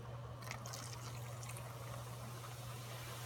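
Vinegar is poured in a steady, faint trickle over aluminum foil for silver cleaning, accompanied by a low hum from water boiling nearby.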